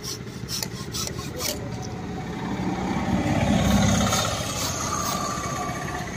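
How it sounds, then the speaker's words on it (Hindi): A hand saw cuts through material at a paper mill in Choudwar, Cuttack, making repeated rasping strokes that swell louder in the middle and then ease off slightly, with no talking. "आरी रे आपन काटिदेवे"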